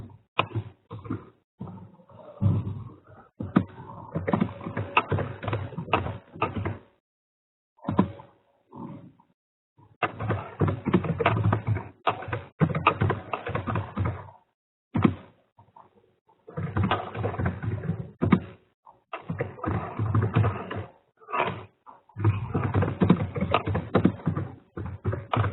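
Someone types on a computer keyboard, producing uneven bursts of close, soft clicking and tapping separated by short pauses.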